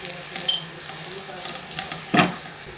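White cumin seeds frying with light-brown onions in a pan, a soft steady sizzle with occasional stirring scrapes and a louder clatter near the end, close by and without talk.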